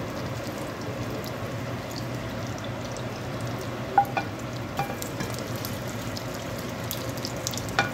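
Sweet and sour meatballs fry in a pan with a steady low sizzle throughout, broken by a few faint clicks and scrapes.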